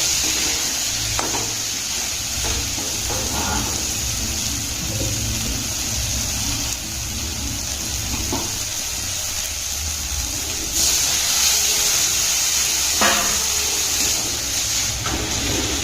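Water hits a pan of chili-powder masala for chicken curry, a continuous steamy sizzle and hiss with faint stirring, flaring into a louder burst of hissing steam partway through.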